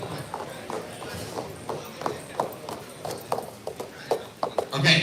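Hooves of a Friesian horse clip-clop at a horse auction in Mt Hope, Ohio, a steady walking rhythm of sharp knocks, fairly close, with a voice talking over them.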